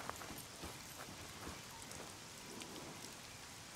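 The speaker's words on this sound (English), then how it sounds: "Ooh, it's raining." Steady rain falls in the survival video game Scum, a soft continuous patter of drops on surfaces heard alone and fairly faint throughout.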